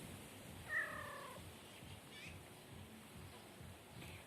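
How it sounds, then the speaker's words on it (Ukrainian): A cat meows once in a quiet outdoor garden in Kryvyi Rih, a single clear, drawn-out mew followed by faint background hush. "Мій гарний, мій сонечко моє, манюсінький мій котичок. Таке на ладошечки був, а тепер здоровий, ходить, нявкає, нявкає."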